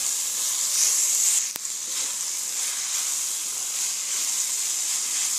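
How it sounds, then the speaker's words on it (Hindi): Minced meat (keema) and kachnar flower buds sizzle and fry in a pan, a steady bright hiss that runs throughout with a brief dip partway, close and fairly loud with no talking. "अब ये कीमे को और कचनार को अच्छे से भून लेते हैं।"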